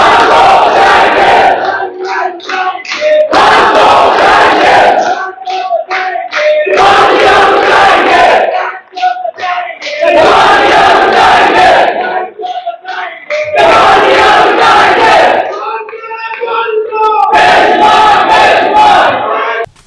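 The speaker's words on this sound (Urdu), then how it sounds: "ان کی آمد پر یہ نعرے لگائے گئے" A large crowd at a political party workers' convention chants slogans in loud, rhythmic bursts, roughly six unison shouts separated by brief pauses, close and forceful throughout.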